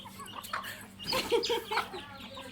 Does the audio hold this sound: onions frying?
no